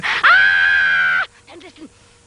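A woman gives a single sustained, piercing scream lasting about a second in a stage performance of Beckett's Not I, loud and close, followed by faint breathy vocal sounds.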